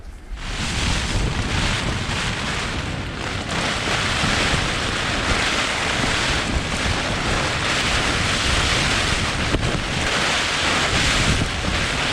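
Strong wind gusts buffet the microphone while waves surge at a windbound canoe campsite, a loud, continuous roaring wash across the whole stretch with no talking.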